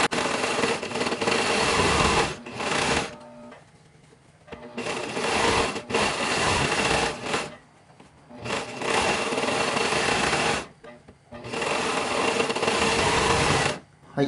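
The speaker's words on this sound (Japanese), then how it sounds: "はい、そうしたらロックミシンで落としていきます。" An overlock serger machine runs in loud, steady bursts as it stitches and finishes the fabric edges of a lined lunch bag, stopping and starting four times with short quiet pauses between runs.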